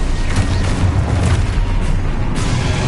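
A Confringo spell explosion in the video game Hogwarts Legacy on PS5, a loud, dense booming blast with rumbling low end sustained across the whole moment, no talk.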